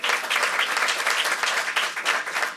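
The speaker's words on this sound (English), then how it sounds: "Let's give her a round of applause." Close, steady applause from the audience at a school district Hall of Fame induction ceremony, sustained and even for a few seconds.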